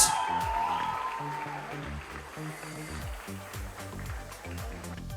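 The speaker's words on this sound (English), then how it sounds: "Let's have a round of applause for him, please." A launch-event audience claps throughout, a moderate, continuous patter of hands beneath a low, steady background of music or hall rumble, with a brief tonal sound at the very start.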